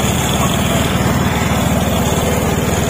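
A repaired motorcycle engine, recovering from running with its engine oil dried out, idles steadily and smoothly up close with an even, rapid putter and no voices.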